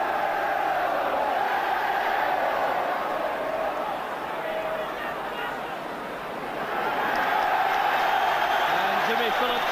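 A football stadium crowd at a 1987 Glasgow Rangers match sends up a broad, steady roar of cheering and babble that swells again near the end, dense and continuous throughout.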